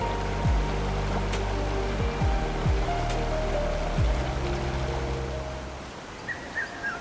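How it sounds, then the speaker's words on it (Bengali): A cold, rocky river near Devkund in Odisha rushes steadily, loud and continuous. Low droning tones sweep beneath the flow before fading near the end. "ওই দূর থেকে আসা জলের শব্দটা?"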